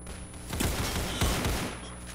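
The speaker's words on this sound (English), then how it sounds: "These guns are so loud." Rapid bursts of gunfire from the Roblox shooter game Counter Blox, dense and loud, firing in quick repeated volleys with several stronger shots throughout.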